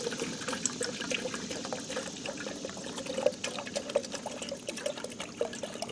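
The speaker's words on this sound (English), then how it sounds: "Let's put in a little bit of water." Water poured into a coffee percolator outdoors, a steady close trickle and splash lasting several seconds, with small clinks, no voices.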